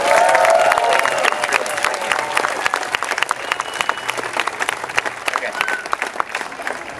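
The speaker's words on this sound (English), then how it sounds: "let's give all three a big round of applause for helping me out." Audience applause at a street performance during a buskers festival in Vienna, a dense burst of clapping from a crowd that starts loud and gradually thins into scattered claps, with some voices and cheering mixed in.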